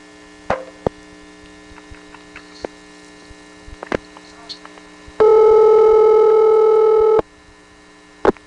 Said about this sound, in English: Are you dialing information?